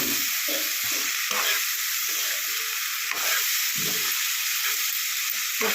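Ridge gourd and moong dal simmer in a pot with a steady, close sizzle and bubbling hiss running throughout, broken by soft stirring clatters and no talk.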